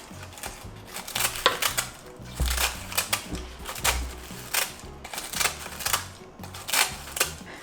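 Kitchen scissors snipping through sheets of toasted gopchang laver seaweed, a quick run of crisp, crunchy cuts in an uneven rhythm, close and fairly loud.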